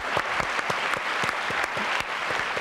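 Steady applause from a crowd, dense clapping sustained at an even level throughout with no break.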